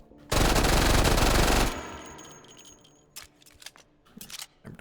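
A burst of rapid automatic gunfire in the VR game H3VR, loud and close, then a ringing tail and scattered mechanical clicks and clacks of handling the weapon.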